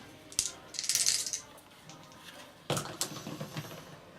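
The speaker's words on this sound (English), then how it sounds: "You roll 2 dice now." Plastic dice clattering onto a tabletop during a Shadespire board game, two short bursts of rattling a couple of seconds apart, close and moderately quiet, with no talk.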